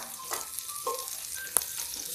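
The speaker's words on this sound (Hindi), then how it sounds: "देखिए, अब ये थोड़ा सा मैं लहसुन भून रही हूँ।" Garlic and chillies fry in a pan in a home kitchen, a soft, quiet sizzle with a few faint clinks and scrapes, one sharper tap partway through.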